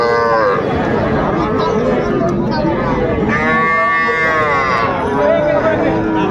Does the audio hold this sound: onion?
no